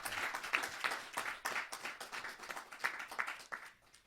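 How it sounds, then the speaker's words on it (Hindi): Warm applause at a Hindi poetry gathering greets a poet, with steady rippling claps from a moderate crowd, fairly faint and fading out toward the end. "जोरदार ताली के साथ हम उनका स्वागत करें"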